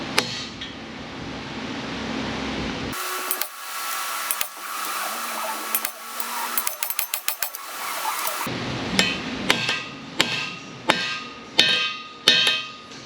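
A hammer taps a bearing into place during a Firebird rear end rebuild, a series of sharp metallic taps, spaced out and growing more rhythmic toward the end, over a steady whirring background.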